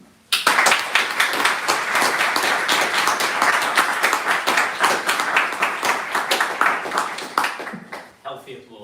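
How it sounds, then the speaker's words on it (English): A roomful of listeners applauds after a corporate speaker's talk, with dense, steady clapping that holds at a strong level for several seconds and then tapers off at the end. "Healthy applause."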